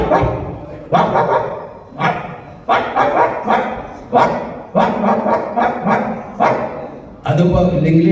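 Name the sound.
voice imitating a dog barking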